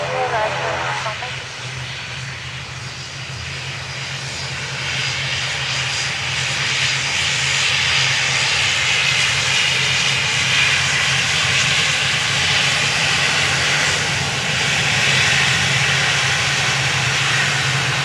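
A steady, loud roar of airplane engines runs throughout on the runway at Dublin Airport, swelling slightly midway, with air traffic radio voices talking over it.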